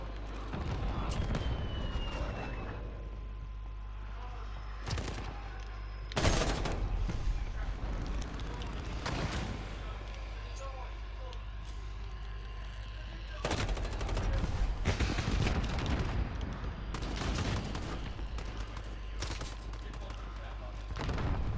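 Light machine gun fire in a hardcore video game match: several sustained bursts of rapid shots come close and loud, separated by quieter pauses with background game noise.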